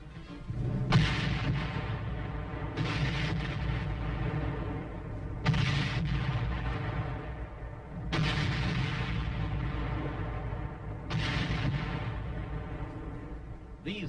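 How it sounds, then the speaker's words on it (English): Korean War artillery pieces of the 24th Division firing on Hill 584, five heavy booms at intervals of about two to three seconds, each followed by a long rumbling decay. "24th Division Artillery prepares to open fire on Hill 584"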